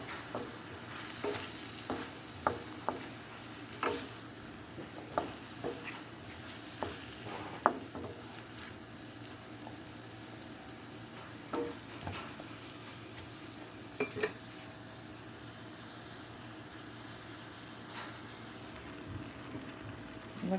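Vegetables seasoned with salt cook in a pan, a soft steady sizzle running throughout with scattered clinks and scrapes of a utensil stirring against the pan.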